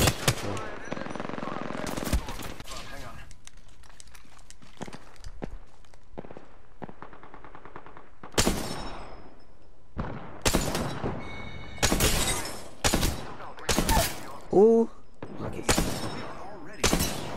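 Gunfire in the battle royale game Apex Legends, with repeated loud automatic bursts and single shots separated by quieter stretches of footsteps and movement, with a player talking at times.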